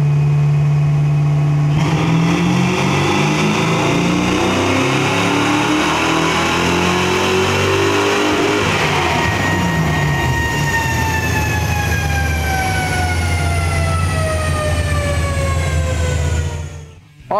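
A 1979-1995 Mustang on a dyno runs with Trick Flow Twisted Wedge 11R cylinder heads, a stage 2 cam and roller rockers. The loud engine sweeps steadily upward in pitch over a long pull, then cuts off abruptly.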